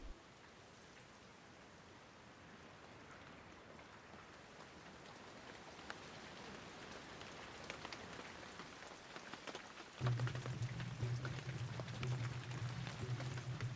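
Tropical rain falls steadily in Mbini, Equatorial Guinea, a dense patter of drops on surfaces that grows a little heavier, joined near the end by a low steady hum.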